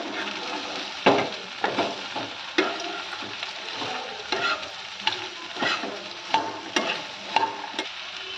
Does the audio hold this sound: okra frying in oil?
yes